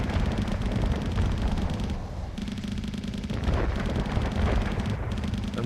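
Bolter weapons on a ship in the space combat game Starsector fire in a continuous heavy barrage, a dense rumbling stream of rapid booming shots with short gaps, loud and steady.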